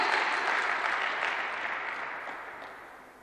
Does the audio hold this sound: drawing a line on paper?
no